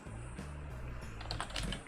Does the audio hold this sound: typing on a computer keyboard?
yes